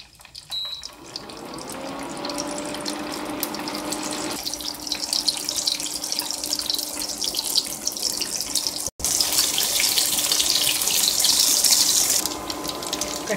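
Leftover-upma cutlets frying in a pan of hot oil give a steady, close sizzling hiss that swells into a louder, brighter crackle partway through as more cutlets go in, with no talking.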